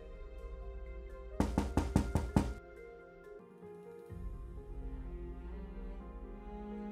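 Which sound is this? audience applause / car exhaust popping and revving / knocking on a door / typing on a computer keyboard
knocking on a door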